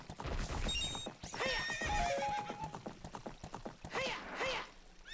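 A horse in Ocarina of Time (Ship of Harkinian) whinnies several times in sharp, close bursts, with rapid clip-clopping hooves underneath and a brief chime in between.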